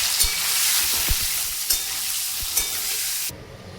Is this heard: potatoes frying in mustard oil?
yes